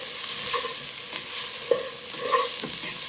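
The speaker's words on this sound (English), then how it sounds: "and some cumin powder and cook them just for 10 seconds." Cumin powder and paprika sizzling and frying in a pan with occasional stirring scrapes, a steady soft hiss throughout.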